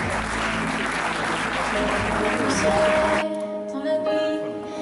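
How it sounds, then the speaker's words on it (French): Audience applause for two couples at a wedding fair in Saubrigues, steady dense clapping filling the room for about three seconds before cutting off abruptly, leaving a quieter tail with faint voices. "Encore deux très beaux groupes qu'on peut, encore bien sûr, applaudir"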